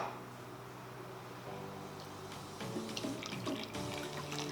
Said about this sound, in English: So you put some water. I'll use a funnel.